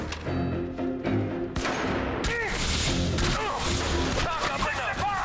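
Squad weapons fire in The Bureau: XCOM Declassified rattles in bursts, with sharp cracks and energy-weapon sweeps layered over a busy battle, and shouted voices cutting in.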